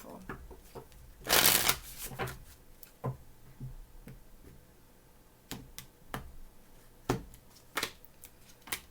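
Tarot cards being shuffled close up, with a burst of riffling followed by scattered soft taps and flicks of the deck.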